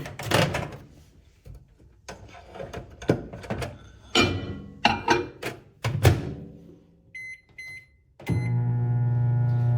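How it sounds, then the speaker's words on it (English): Clattering thunks and a door-like slam, a few electronic beeps, then a steady low microwave hum running to the end. "let's soften that up a little bit here in the microwave."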